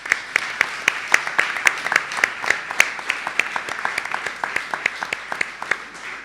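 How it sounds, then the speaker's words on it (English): Audience at an anniversary and book launch event gives a round of applause, with many distinct hand claps in a steady, moderately loud patter. "let's have a round of applause to congratulate everyone who has made this evening possible"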